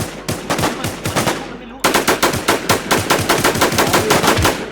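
Rapid bursts of automatic gunfire crack out in the online shooter game Warz Infestation, a short volley, a brief gap, then a longer steady string of shots, loud and close.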